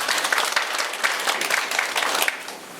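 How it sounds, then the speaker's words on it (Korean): Audience applause at an organic garlic-farming training session as a regional shippers' association chairman is welcomed to speak: steady, dense clapping from a room of people, fairly close, lasting throughout and easing slightly at the end. "박수로 맞이해 주시면 감사하겠습니다."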